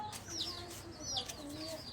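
Soft chirps and clucks from chicken chicks, a few repeated calls over a steady background murmur, fairly close.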